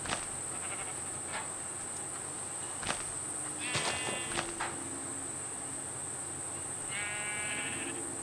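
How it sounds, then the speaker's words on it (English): Sheep bleat inside the Minecraft video game, a few short wavering calls at moderate volume over steady insect-like chirping ambience, with brief clicks and game sound effects scattered between them. "I found more sheep stuck in the leaves."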